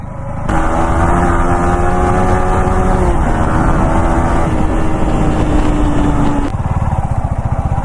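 A rebuilt motorcycle engine runs close by at a steady, loud drone with a faint rising whine, then drops back to a lumpier idle near the end.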